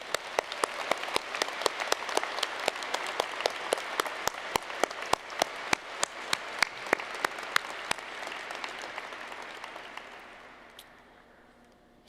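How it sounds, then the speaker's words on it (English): Audience at a university health sciences graduation ceremony applauds the supporters, a dense wash of clapping with a few sharp, close claps standing out, fading away near the end. "let us give them a big round of applause for all that they have done"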